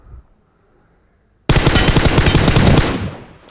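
In a video game, after a moment of near silence, a burst of rapid automatic gunfire rattles loudly for about two seconds, then trails off.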